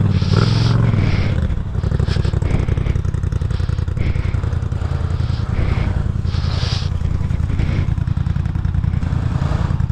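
A KTM motorcycle engine rumbles loudly and roughly with uneven pulsing revs on a frosty day, close by and filling the whole stretch without talk.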